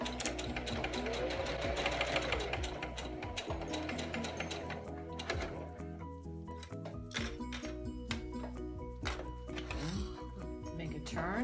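A sewing machine stitching the pleats of a cloth face mask, running in close, steady rhythmic bursts with brief pauses and small clicks, faint overall, while someone talks alongside.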